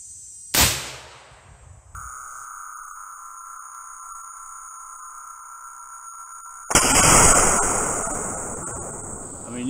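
A rifle fitted with a muzzle brake fires one sharp, loud, close shot, followed by a steady high tone and then a burst of broad rushing noise that slowly fades.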